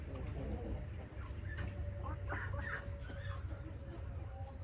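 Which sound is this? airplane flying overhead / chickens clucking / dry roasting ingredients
chickens clucking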